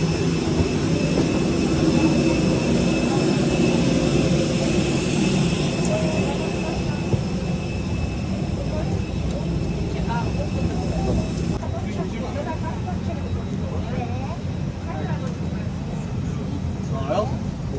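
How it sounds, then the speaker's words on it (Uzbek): An airplane in flight gives a loud, continuous, steady engine drone heard from inside the cabin, with people talking over it. "Birinchi marta samolyotga uchyapman."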